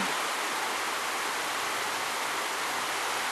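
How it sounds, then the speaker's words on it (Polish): The Olza river at Cieszyn on the Czech border flows with a steady, broad rushing hiss of water, continuous and fairly loud, with no voices over it. "tutaj jest rzeka Olza"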